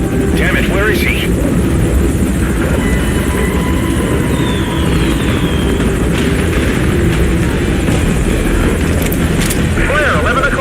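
Steady low rotor drone of a helicopter in the video game Metal Gear Solid V: Ground Zeroes fills the scene, with a faint background voice and brief higher-pitched chirps over the continuous roar.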